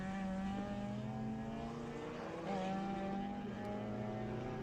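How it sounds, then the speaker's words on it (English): A Honda Integra race car blasts past during a club circuit race, a sustained high engine drone heard from a distance, steady and fairly faint without talk. "Great sound effect as the Integra blasts past"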